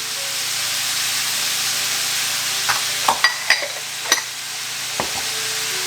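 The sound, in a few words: pork belly and shrimp frying in a pan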